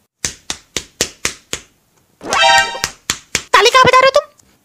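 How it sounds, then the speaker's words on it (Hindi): Hands clap sharply six times in an even rhythm, close and loud, then a pause before a voice speaks over a few more scattered claps. "ताली कहाँ बजा रहे हो तुम?"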